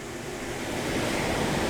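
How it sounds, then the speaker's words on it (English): Ocean waves washing onto a beach in Maryland, a broad continuous roar of surf that swells slightly louder toward the end, heard alone without talk, with some wind noise on the microphone. "We're on the beach, as you can see."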